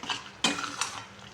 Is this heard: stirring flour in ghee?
yes